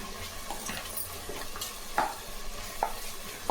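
Rice and mint being stirred in a pressure cooker, a close, steady scraping and rustle with a soft sizzle beneath and a few sharper clinks of the spoon against the pot.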